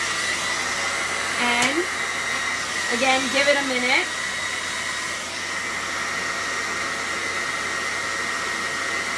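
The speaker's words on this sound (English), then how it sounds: "blow dryer," A hair dryer blows steadily and loudly throughout as it melts crayons for art, a continuous whooshing hum, with someone speaking briefly over it partway through.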